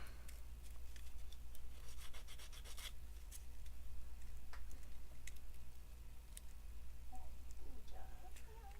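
A Nendoroid figure being sanded by hand for customization, with close, continuous rhythmic rubbing and scratchy strokes and a few ticks, all heard alone.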